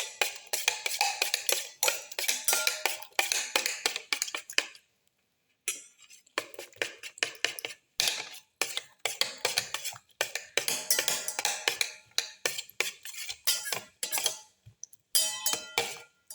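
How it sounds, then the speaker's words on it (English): Garlic, ginger and other ingredients for a black pepper red spinach omelette being mixed and crushed in a bowl, giving busy, repeated clinks and scrapes in bursts with a few short pauses. "Thoroughly mix and crush all the ingredients together."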